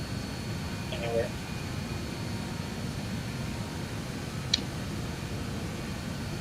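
Steady low drone of a BAE-146 jet engine heard from inside the cabin in a flight simulator, a constant rumbling hum with faint brief clicks over it.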